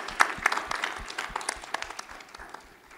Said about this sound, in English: let's have a big round of applause once again for Jonas and the entire team and the secretary